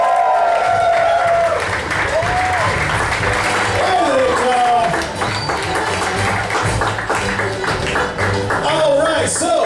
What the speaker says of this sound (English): everyone, please clap your hands and make the woo one more time for the Improv Trick